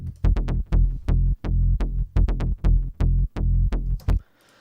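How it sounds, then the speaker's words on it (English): Deep, punchy bass line played alone in a quick syncopated rhythm, about a dozen short plucked notes with sharp attacks and a thick low end, loud and close, ending on a brief noisy tail. "how you make a bass line that sounds like this"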